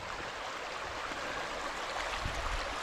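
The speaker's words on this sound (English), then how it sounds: "Check out the little creek here." A small creek flows in a snowy, freezing campsite, a steady broadband rush of water that stays close and even throughout, with no voices.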